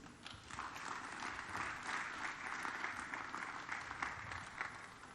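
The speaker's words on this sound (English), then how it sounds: "Please give a warm applause for Dixon." A conference audience gives a panelist a quiet, steady round of applause, with many hands clapping evenly for about five seconds and heard from a distance.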